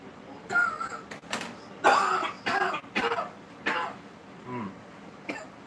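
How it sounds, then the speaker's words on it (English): Several harsh coughs and throat-clearing bursts in irregular succession, close and fairly loud, with short quiet gaps between them. "I hate this cough I've been having."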